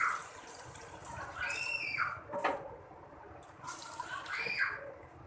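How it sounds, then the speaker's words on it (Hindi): Water poured into a pot of fried chicken nihari, a soft splashing and trickling pour that swells and fades twice, close by and fairly quiet, with no talk. "अब मैं इसमें वाटर ऐड कर दूंगी ताकि चिकन हमारी अच्छी तरह से गल जाए"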